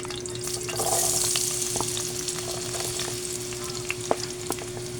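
Potatoes sizzle and crackle steadily in hot oil, with a few soft clicks of stirring and no talking.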